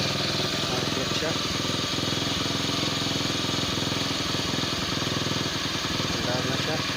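A Kawasaki Bajaj CT100 motorcycle engine, fitted with a new CDI after stalling trouble, runs steadily at idle with a continuous low chugging throughout, close and fairly loud.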